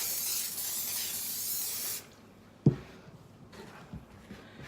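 A steady hiss of cooking oil sprayed from a can for about two seconds, followed by a couple of soft knocks in a quiet room.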